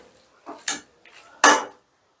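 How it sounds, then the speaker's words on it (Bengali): A utensil stirs chicken bhujia with coriander leaves and pepper in a pan, making a few short, close scraping and clattering strokes with brief pauses between them and no voices. "এবারে ধনে পাতার গোলমরিচটা দিয়ে একটু নাড়াচাড়া করে মিশিয়ে দিচ্ছি"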